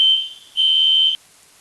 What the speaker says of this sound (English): Well, that was the fire alarm